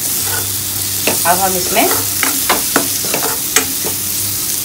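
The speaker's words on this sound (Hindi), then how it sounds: "ये अच्छे से भून के ऑयल भी सेपरेट हो चुका है।" Spices frying in oil in a pan for a potato and long bean dish, a soft sizzle with stirring scrapes under a close voice speaking briefly.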